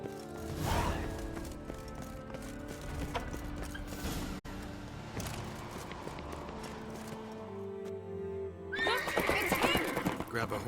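In The Witcher 3 video game, a horse whinnies loudly up close, followed by clip-clopping hooves and rustling movement, then a brighter burst of game sound at the end.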